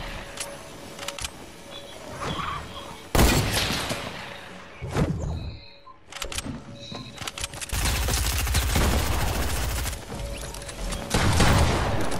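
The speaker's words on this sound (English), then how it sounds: "someone's shooting at me" Gunfire bursts in the video game Fortnite, with rapid volleys and single shots cutting through a dense, busy game mix of movement and mechanical clatter, loud and near, repeating across the scene.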